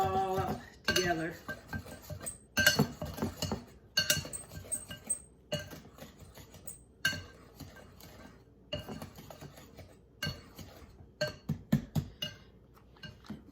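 A utensil stirs scone dry ingredients in a bowl, giving off a run of irregular clinks and scrapes against the bowl, close and fairly loud, with short pauses between the strokes.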